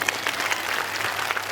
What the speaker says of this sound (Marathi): तुम्हाला यांचं गाणं आवडलं असेल तर टाळ्या वाजवा बरं.